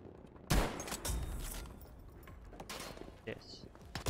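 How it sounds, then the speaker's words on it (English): Anti-aircraft guns fire in Battlefield 5 on the snowy Narvik battlefield, a distant rattling fusillade of rapid shots blended into battle noise. A player's voice is heard over it. "Some AA guns!"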